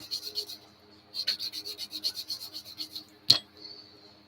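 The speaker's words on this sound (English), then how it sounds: "Just keep sanding as you go around in a circle like that, half circle." Hand sanding a diecast toy car body, with quiet rhythmic rasping strokes in two runs and a sharp clink near the end, close and clear with no talk.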